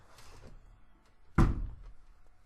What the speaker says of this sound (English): my cat just opened the door